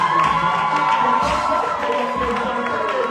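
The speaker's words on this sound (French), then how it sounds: "joindre tes deux mains, acclamer et pousser les cris de joie" Church congregation at a seminary service, dense continuous crowd cheering and shouting with claps, loud and close, a sustained joyful roar throughout.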